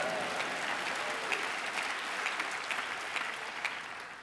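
A conference audience at the 2014 Labour Conference applauds for Manchester: steady, dense clapping from a large crowd, sustained and even throughout with a few sharper claps rising above the wash.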